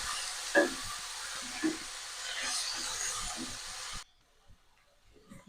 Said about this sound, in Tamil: தக்காளி கொஞ்சம் நல்லா வதங்கணும்.